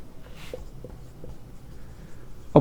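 Pen scratching across paper while a solution to a class 10 geometry problem is written out, faint and close, with small strokes spread through and a louder burst near the end.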